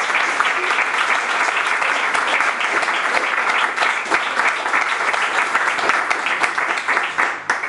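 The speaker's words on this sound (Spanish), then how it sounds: "pedir un aplauso para ellos" Spanish audience at a poetry book launch in Madrid applauds for several seconds, a loud, dense, sustained clapping from many hands with no voices over it.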